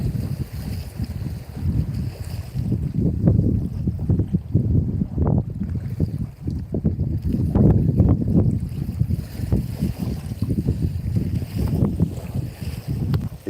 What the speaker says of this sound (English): Is the wind getting it there, guys?